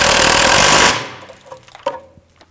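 A 17mm socket on an impact or power tool drives a sway bar link nut on a 2009-2017 Volvo XC60, a loud rapid hammering burst for about a second, then fading to a few faint metallic clinks.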